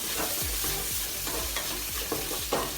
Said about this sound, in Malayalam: ആ പച്ച മണം ഒന്ന് മാറുന്നിടം വരെ ഇളക്കുക.